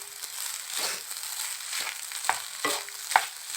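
Cooked rice mixed with egg, being stirred and fried in a pan, gives repeated crisp scraping strokes over a continuous close sizzle, with a few sharper clacks of the spoon.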